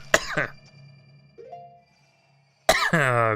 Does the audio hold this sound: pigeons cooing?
no